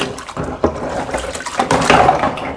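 Running water swirls and splashes inside a Thermomix bowl as it rinses, a steady gushing wash with brief sloshing bumps, close and fairly loud without talk.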